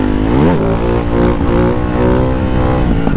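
A Ducati Hypermotard 698 Mono single-cylinder motorcycle runs at speed, a loud, close engine drone that rises and falls in pitch as it revs, with heavy wind rush and no talk.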